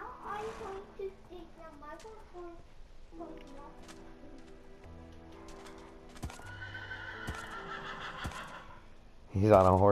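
A horse whinnies among Minecraft game sounds and hoofbeats, with a person talking over it and a sudden loud burst at the end.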